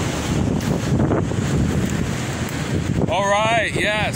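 Strong wind roars against a tent in a severe thunderstorm, a continuous loud rushing buffet that fills the whole stretch, before someone speaks briefly near the end.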